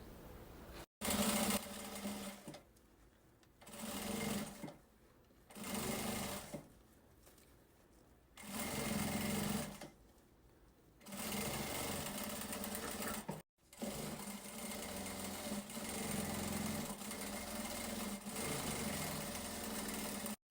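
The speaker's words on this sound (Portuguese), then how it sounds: "vamos passar uma costurinha aqui. Passa 2 costuras pra reforçar bem essa alça" A sewing machine stitches a child's backpack strap to its lining in close, loud bursts of rapid mechanical whirring, stopping and starting several times with short pauses in between.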